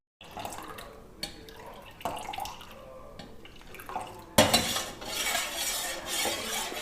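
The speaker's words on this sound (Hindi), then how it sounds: "मुसलसल चमचा हिलाते जाना है कि नीचे ना लगे।" A spoon stirs bottle gourd in a cooking pot over medium heat, giving repeated soft scraping and clinking strokes at a steady pace, close and moderately loud, followed by a brighter hissing sizzle near the end.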